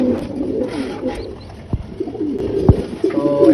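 Pigeons coo near a newly hatched chick, soft low throaty calls repeating in a loose rhythm, close and moderately loud, mixed with a few light knocks and rustles in a quiet coop.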